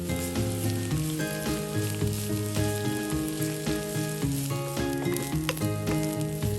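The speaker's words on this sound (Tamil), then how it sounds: "இதோட 1/2 கப் துருவின தேங்காய் சேர்த்து தேங்காய் நல்லா ப்ரௌன் கலர் ஆகிற வரை நல்லா வதக்குங்க." Grated coconut and onion sauté in a pan for a Goan mushroom xacuti curry, giving a steady sizzle with occasional stirring scrapes, all under a continuous layer of background music.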